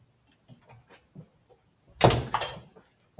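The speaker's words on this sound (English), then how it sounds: "Somebody's at my door." A door at a house is opened, giving a sudden burst of thumping and rattling close by after a few soft faint knocks and shuffles.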